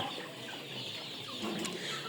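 Sonali chickens cluck softly nearby in a poultry shed amid a faint background hum.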